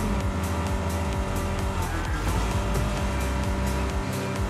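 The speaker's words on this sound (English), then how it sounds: "if I take tight turns, it will like cause my car to get a drift" A car in the Rocket Racing video game drifts through a tight turn: a steady, loud engine drone with tire squeal rising over it for several seconds, and no voices.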